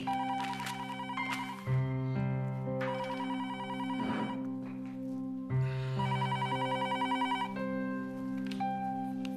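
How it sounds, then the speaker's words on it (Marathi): A telephone ringtone plays a bright, looping electronic melody, repeating its phrase several times at a moderate level indoors with no voices over it. "जरा फोन घे ना"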